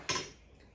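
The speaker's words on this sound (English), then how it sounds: "I'm going to scoop everything off of the spoon" A spoon scraped clean of peanut butter, likely against a measuring cup, giving one short close clink and scrape that fades within a fraction of a second.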